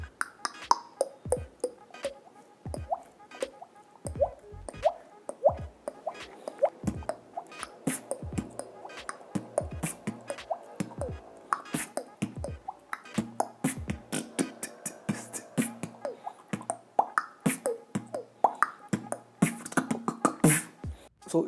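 Beatbox imitation of water droplets: a steady stream of sharp, wet mouth pops and plinks in a quick, loose rhythm, close and dry with no talk.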